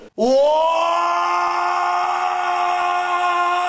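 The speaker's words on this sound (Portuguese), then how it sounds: "Vou mandar o um grunhidinho aqui pra mãe." A ceratosaurus in The Isle lets out one drawn-out, loud, tonal grunt-groan with strong harmonics, holding steady for over three seconds after a brief click, alone without talk.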